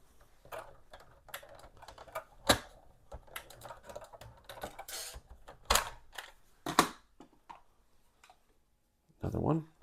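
Uneven bursts of keystrokes clatter on an Atari 800 computer keyboard, sharp clicks in irregular clusters with pauses between, close and fairly quiet, with a short voice near the end.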